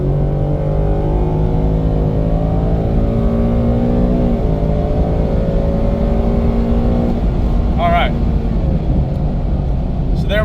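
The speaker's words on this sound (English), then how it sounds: "The engine response, how quickly it is to respond, and then how much the engine really winds out. So here we go, full throttle." A 2024 Ford Mustang engine revs hard at full throttle, a loud steady drone whose pitch climbs and holds before easing off, with brief higher tones near the end.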